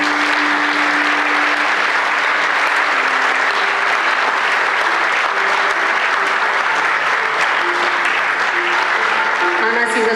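Audience at a municipal holiday award ceremony in Laško claps in a loud, dense, sustained wave of applause, with a voice speaking faintly over it and a tonal hum running underneath.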